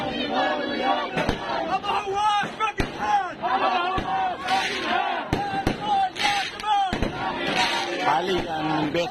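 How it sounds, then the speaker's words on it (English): Celebration fireworks in Palestine crack in repeated sharp bangs amid a loud, excited crowd shouting and cheering, with voices constantly overlapping the irregular explosions. "There was celebrations in Palestine over his victory, including this fireworks."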